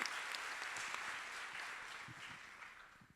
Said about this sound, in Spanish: a quem peço um aplauso, por favor